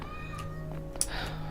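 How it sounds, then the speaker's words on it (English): A house cat meows faintly indoors, a few soft, short calls at moderate distance, alone without talk. "Can you hear that cat? That's actually my sister's cat, Arlo."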